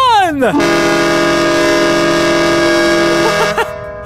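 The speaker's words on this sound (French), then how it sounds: "On va activer le klaxon!" A train horn sounds after a lever is pulled, rising in with a sweeping pitch, then blaring as a loud, steady multi-tone chord for about three seconds before cutting off abruptly.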